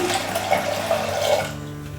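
Water is poured from a vessel onto cooked lentils in a pressure cooker for sambar, a steady close splashing flow that tapers off near the end.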